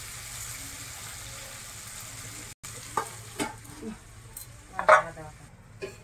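Koi fish fries in oil in a pan, a low steady sizzle broken by a brief cut and then several clattering scrapes and knocks of a spatula turning the fish, loudest near the end.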